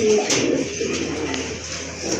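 Colorful pigeons cooing in a pair kept for sale, low rounded coos close by with some faint background noise and a little talk.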